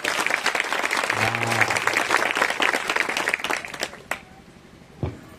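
A church congregation at an Odia Christian blessing festival claps loudly in thanks to Jesus, a dense burst of applause with a voice briefly heard, then fading to scattered claps and a final thump.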